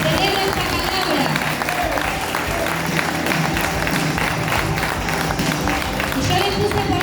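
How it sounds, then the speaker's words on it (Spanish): A church congregation claps and cheers in continuous, dense applause during a Spanish-language sermon, with voices mixed into the clapping throughout. "Dale ese aplauso."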